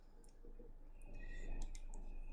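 Faint, quick clicks from a computer mouse, several light taps scattered over steady low background hum, close but quiet.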